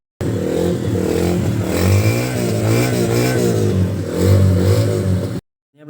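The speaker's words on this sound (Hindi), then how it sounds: "तो मैंने अपने बाइक को किया स्टार्ट। इसका आप साउंड अपने कानों से सुन सकते हैं," A motorcycle engine runs steadily and loudly up close, its rumble rising and falling with a couple of revs before cutting off abruptly.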